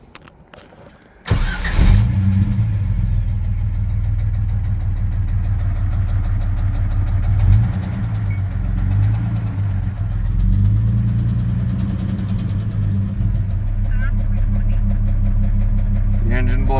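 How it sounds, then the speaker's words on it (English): A Jeep Cherokee 4.0L engine with a cracked piston runs steadily while driving, a loud low drone carrying a continuous mechanical knock throughout, close and unbroken after a brief quieter start. "Still knocking like crazy, but it hasn't blown up yet."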